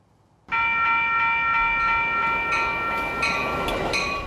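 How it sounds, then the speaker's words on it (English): A Metra commuter train in suburban Chicago rolls past close by. A sustained tonal horn or bell chord starts sharply over the rumble of the wheels, and a few rhythmic clacks follow toward the end. "Metro trains are still moving in Chicago and the suburbs"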